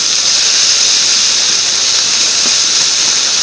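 Blood sausage sizzles in a pan with onion and apples, giving a steady, loud, even hiss with no breaks.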